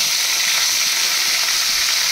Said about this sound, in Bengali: এবারে আমি কড়াইতে তেল দিয়ে পটলগুলো ভালো করে ভেজে নেব